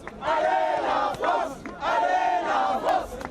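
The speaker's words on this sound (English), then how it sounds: "We're not afraid, chant the crowds in Paris." Large crowds in Paris chanting in unison after attacks, two loud sustained rhythmic chant phrases with a short pause between, heard outdoors without other talk.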